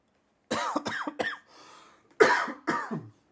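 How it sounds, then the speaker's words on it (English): A person coughs repeatedly, a rapid burst of three harsh coughs, a short wheezy breath, then two more hoarse coughs, close and loud without talk. "Got a bit of a cough."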